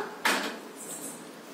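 A container of fermented idli batter is opened with one short, sharp clatter of the lid, close and fairly loud, followed by quiet room tone.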